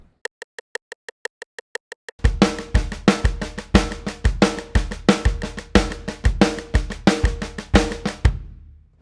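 A drum kit plays an even eighth-note triplet groove with accents displaced an eighth note off the beat, opening with a light ticking pattern before the full kit comes in loud and steady.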